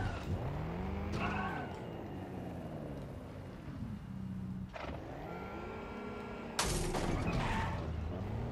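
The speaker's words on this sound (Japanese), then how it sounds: "車の運転難しいね。 ドリフトはできると。" Car engine hum with curving pitch sweeps while drifting in the video game Watch Dogs Legion, steady and fairly loud, with a harsher burst near the end.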